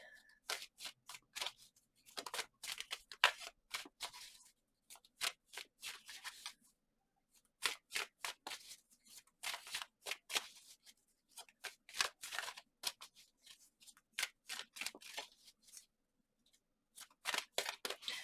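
Tarot cards are shuffled in repeated quick bursts of riffling separated by short silences, close but soft, with no voices.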